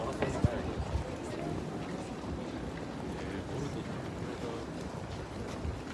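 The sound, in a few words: wind, a slight breeze, outdoors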